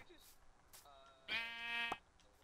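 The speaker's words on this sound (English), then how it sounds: "Is that a pink sheep?" Sheep in the video game Minecraft bleat twice, a short faint call followed by a louder, longer buzzy bleat, with a person talking around them.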